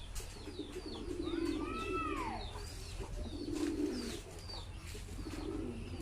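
Low throaty pigeon coos come in a few rolling phrases, with other higher bird calls chirping faintly around them.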